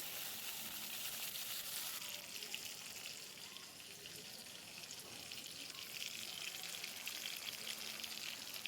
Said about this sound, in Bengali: এবার আমি তেলটার মধ্যে টমেটো আর কাঁচা লঙ্কা দিয়ে দিলাম